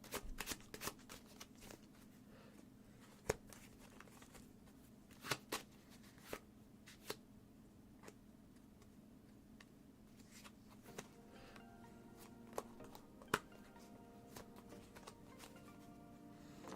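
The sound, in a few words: playing cards being shuffled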